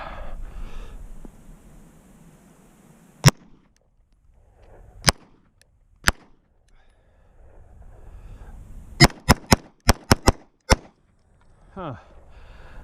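Pistol shots from a SIG P365XL at an outdoor range, fired in single spaced shots and then a rapid string of about seven, sharp and loud against a quiet background.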